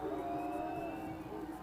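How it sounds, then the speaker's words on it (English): Crowd noise at a Southern Utah home football game against Central Arkansas: a dense, loud mass of stadium cheering and shouting swells throughout, with scattered whoops rising over the roar. "Crowd coming alive as Southern Utah's defense looks for a big stop"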